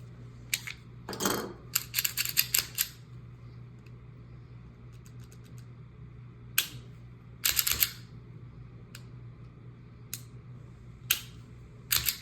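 Bodyguard 2.0 pistol trigger being pulled and reset, heard as sparse, crisp metallic clicks and short clusters of snaps, close up over a steady low hum.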